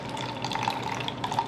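Liquid pours out through the built-in strainer of a Speed Tin cocktail shaker, a soft continuous trickle with faint splashing, heard alone and quietly.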